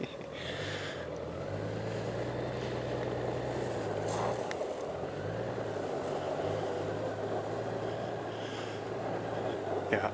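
A motorcycle rides over a gravel road near Fox Cove, Newfoundland and Labrador, with a continuous low engine drone and broadband crunching and wind noise throughout.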